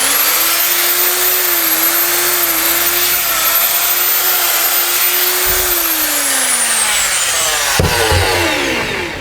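A drill machine motor with a newly fitted armature runs on mains supply, giving a loud, steady high-pitched whine throughout that dips slightly near the end, with a brief click toward the close.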